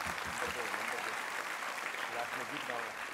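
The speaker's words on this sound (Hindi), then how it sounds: "मां के सम्मान में ताली बजाइए" An audience at a religious discourse claps together in steady, dense applause that lasts throughout, fairly distant and even in level.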